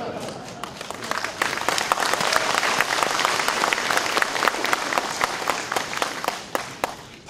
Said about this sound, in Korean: 박수 쳐주셔서 고맙습니다